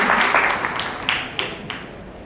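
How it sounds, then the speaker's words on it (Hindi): Loud applause from an audience at a district seminar in Kanpur, thanking the chairman; dense clapping with a few sharp individual claps, fading gradually over about two seconds. "जोरदार तालियों के साथ हमारे अध्यक्ष महोदय को धन्यवाद।"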